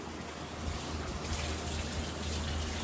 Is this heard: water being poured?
yes